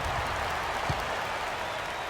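Applause from an arena crowd in a basketball video game, a Trail Blazers at Cavaliers matchup, a steady broad wash of clapping and cheering that fills the whole moment without any break.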